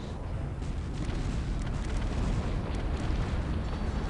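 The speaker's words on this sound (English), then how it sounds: "He should be shooting his cannons." Artillery cannons fire in a real-time strategy video game, a dense continuous roar of booming shots and rumbling explosions that stays loud throughout, with no talking.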